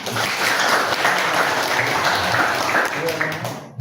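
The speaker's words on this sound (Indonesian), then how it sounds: "tepuk tangan untuk ini" Classroom audience of students applauding in a guidance lesson, a broad sustained burst of clapping mixed with some voices, holding steady before tapering off near the end.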